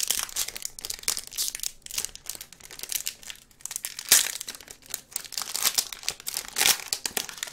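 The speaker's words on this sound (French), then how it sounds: "Je vais tout vous déballer un par un et je vais vous montrer les cartes que je reçois dans chaque paquet." Dragon Ball card booster packs are torn open by hand: close, busy crinkling and ripping of foil wrappers in irregular bursts, with a few sharper tears and no talking.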